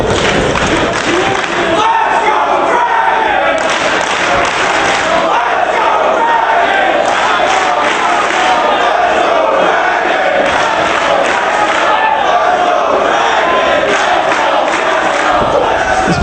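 A wrestling arena crowd at an ROH Final Battle event chants loudly for Dragon and Briscoe, a dense, rhythmic roar of many voices filling the space with steady cheering throughout.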